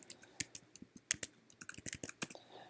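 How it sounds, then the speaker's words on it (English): Quick, close clicking of keys on a computer keyboard as a password is typed, irregular bursts of sharp taps in a quiet room. "type in your password"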